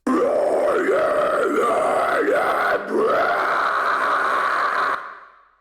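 A harsh screamed metal vocal from a cover song, heard dry with no distortion: several rhythmic swooping yells, then a long held scream that fades out at the end.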